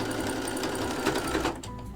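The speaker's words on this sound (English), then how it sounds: "I know when to stop and start sewing on the string" Sewing machine running steadily as it stitches string onto fabric, a continuous close whirring hum that cuts off near the end.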